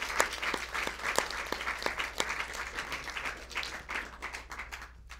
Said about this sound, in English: Well, I think they deserve a big clap.